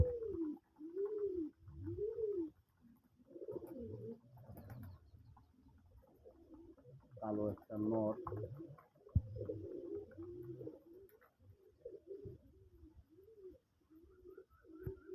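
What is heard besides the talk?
white Akashi pigeon cooing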